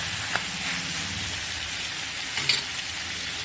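Potatoes and capsicum frying in a kadhai for paneer shimla mirch sabzi, a steady close sizzle with a faint crackle and a couple of small clinks from stirring.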